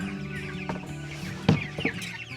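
Chickens raised on pasture cluck softly and intermittently, with a couple of sharper nearby clucks over a steady low background.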